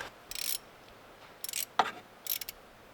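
Nuts are tightened on a BMW Z4 hood emblem, heard as a few short, quiet bursts of ratcheting clicks separated by pauses in a hushed setting.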